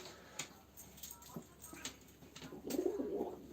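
Soft cooing from pigeons at a live pigeon auction, close by, a low murmuring call rising near the end against faint rustling and background noise.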